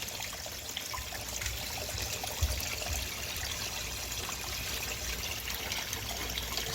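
Water runs steadily through a 6-inch VDR gold sluice outdoors, a continuous close rushing trickle with a brief bump partway through and no voices.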